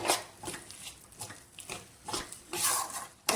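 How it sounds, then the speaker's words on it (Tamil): Moong dal goes into a pan for a sweet halwa: a repeated, rhythmic scraping and rustling as the lentils are added and moved around, close and fairly soft, with no speech. "இப்போது இதில் நம்ம பாசிப்பருப்பை சேர்த்துடலாம்."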